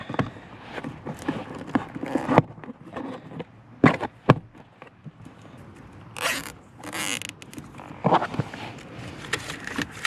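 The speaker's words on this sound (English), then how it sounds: "I'll be zip tying this line up here" Plastic zip ties are fastened around a dashcam cable inside a car, making quick ratcheting zips amid rustling and handling clatter, close and moderately loud, with a few brief pauses.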